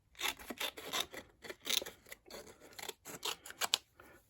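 Scissors cut through a piece of greeting card stock in a run of close, crisp snips, about a dozen quick strokes with short pauses between them.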